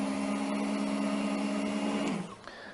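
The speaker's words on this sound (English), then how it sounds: "how to sharpen a knife on the WorkSharp knife and tool sharpener" A Work Sharp Ken Onion electric belt knife sharpener runs with a steady high whir, then winds down near the end.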